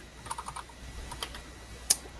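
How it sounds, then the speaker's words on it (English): Light, scattered keystrokes on a computer keyboard, a quick burst of taps followed by a few isolated presses and one sharper, louder key hit, close by in a quiet room. "And I'm writing some text in my file that I've opened up."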